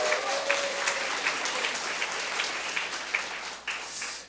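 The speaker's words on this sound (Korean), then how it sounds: "박수 한번 치겠습니다." Audience clapping at a company product presentation, a dense steady patter of many hands throughout, fading slightly at the very end.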